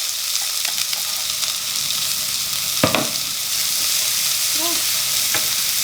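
Onions frying in a pan while a cook prepares ugali with eggs and creamy spinach; a steady sizzle runs throughout, with brief stirring scrapes and one short spoken word.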